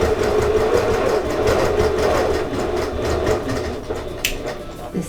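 A sewing machine doing free-motion quilting along the seam where fabric patches meet: a steady, fast mechanical whirring and rattle running the whole time, close and fairly loud.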